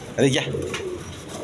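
A pair of yellow Continental pigeons coos close by, a soft burst of throaty calls early on that trails off into quieter murmuring.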